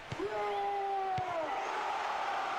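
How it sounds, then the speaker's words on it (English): Stadium crowd in the PES 6 football video game, a steady loud roar with rising whistle-like tones sweeping over it and a couple of sharp thumps. "Listen to the crowd."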